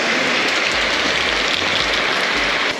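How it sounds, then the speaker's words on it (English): Pouring rain falls at an organic food market in Oaxaca, Mexico, a dense steady hiss of heavy rainfall on surfaces with low intermittent thuds beneath, nearby and continuous, no talk. "the walking tour has been interrupted by the pouring rain"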